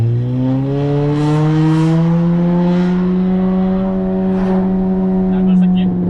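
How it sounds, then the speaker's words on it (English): A 10th gen Honda Accord 1.5T with a KTuned 3-inch exhaust revving in first gear, a loud droning exhaust note holding steady at mid revs, with faint pops crackling over it near the end. "if you guys want to hear some amazing amount of pops, stay in first gear"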